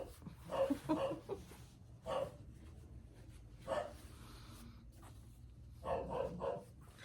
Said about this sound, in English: And the guard dogs are back on duty.